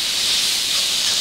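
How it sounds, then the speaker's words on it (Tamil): Grated carrot frying in about two spoons of ghee for a carrot chocolate kheer gives a loud, steady, bright sizzling hiss that holds unbroken with no talking. "இதில் கேரட்டை நல்லா ஃப்ரை பண்ணிக்கலாம்."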